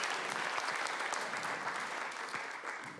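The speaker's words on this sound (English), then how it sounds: "You know you didn't want to clap for that." A comedy club audience claps for a stand-up comic, a steady round of applause from the crowd that holds throughout and tapers slightly near the end.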